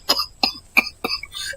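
A man coughs heavily and harshly, four chesty bursts spaced evenly about a third of a second apart, followed by a raspy throat sound, close and loud with no talk.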